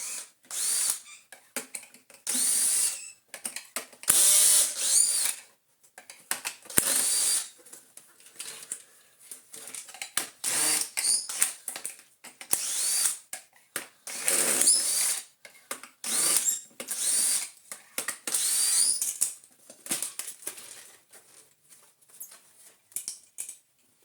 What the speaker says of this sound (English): We want to undo these screws here.